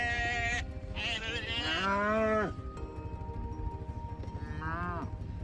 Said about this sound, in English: This farmer had to catch a calf on an ATV to get it vaccinated.